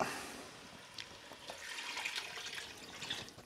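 A litre of vegetable stock is poured into a cooking pot for roast pumpkin soup, giving a soft, steady liquid splash and trickle that runs for a few seconds at moderate closeness without talk.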